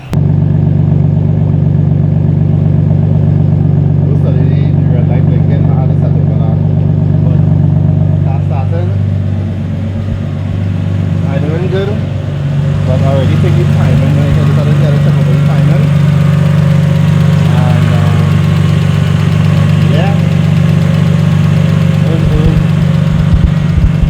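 A freshly installed RB25DET engine in a car fires up for its first start and settles into a loud, steady idle with a deep throbbing rumble, while people talk over it.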